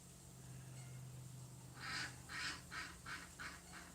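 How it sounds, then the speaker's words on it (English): A duck quacks in a rapid series of about six short, nasal calls at moderate distance, rising out of a steady low hum and faint ambient noise. "There's the duck."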